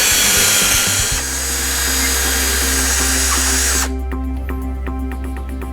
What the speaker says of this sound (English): Take your jig, line it up in the notch of the drawer box, and then drill your rear hook holes